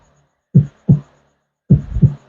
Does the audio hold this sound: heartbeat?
yes